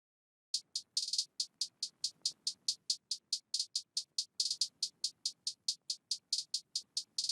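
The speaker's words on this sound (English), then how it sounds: "We also have the hi-hats," Fast trap hi-hats programmed in FL Studio for a guitar-driven beat, a steady run of crisp, bright ticks with brief gaps, loud and close with nothing else beneath.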